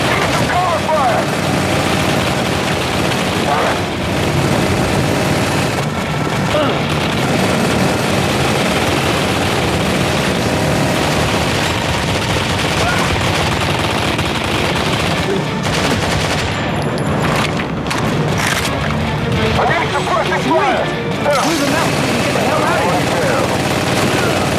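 Sustained covering gunfire in Modern Combat 3, dense machine-gun bursts with engine and helicopter-like rumble beneath, loud and continuous while voices shout over the battle.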